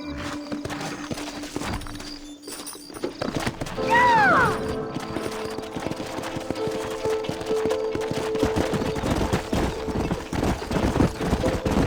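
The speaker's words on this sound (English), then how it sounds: "horses are over here!" In the Red Dead Redemption video game, a horse whinnies loudly with a rising-then-falling neigh over busy clattering hooves and background game noise.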